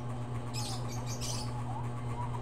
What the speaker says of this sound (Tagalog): Ingay ng mga ibon sa bundok.